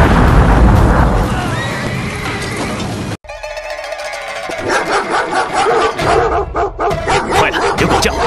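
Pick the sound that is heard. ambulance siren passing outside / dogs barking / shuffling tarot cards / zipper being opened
dogs barking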